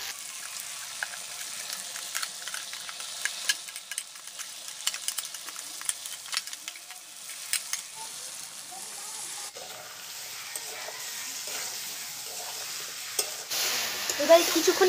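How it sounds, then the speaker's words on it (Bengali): Spice paste being stir-fried with crab in a pan, a steady low sizzle with frequent scraping stirs that grows brighter and busier toward the end, heard alone. "এবারে কিছুক্ষণের জন্য আমি একটু কষে নেব"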